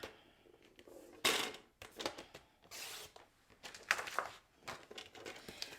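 Cardstock being cut into a 1 1/4 by 5 1/4 inch strip for a standing fun fold card, heard as a series of close, crisp rustling and sliding strokes with small pauses between them.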